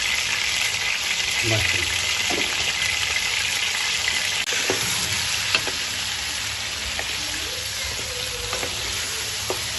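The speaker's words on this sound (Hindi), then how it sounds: "चिकन को हमने पहले फ्राई करना है।" Chicken pieces fry in hot ghee in a karahi with a loud, continuous sizzle and occasional stirring clatter, close up, while a voice speaks briefly over it.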